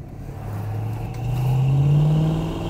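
A 1973 Plymouth Cuda with a 5.9-litre V8, heard from inside while driving: a deep, throaty engine drone that swells as it revs up, peaks, then eases slightly, loud and close with no talking.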